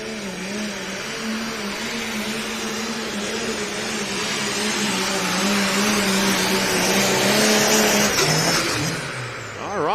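A light limited super stock pulling tractor of around 1,800 horsepower at a Grand National truck and tractor pull in Canton, Ohio, roars loud and close without a break, its engine swelling slightly before cutting off near the end.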